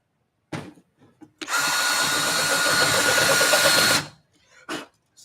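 A power drill run slowly around an existing hole in a PLC enclosure box to widen it, one sustained whirring burst of about two and a half seconds, close and loud, with brief knocks and handling sounds before and after.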